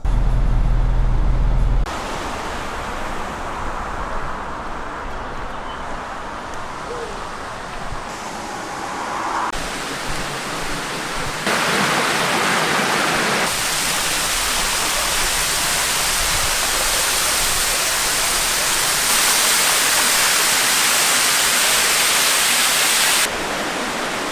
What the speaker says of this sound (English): there is a waterfall that just comes down off the cliff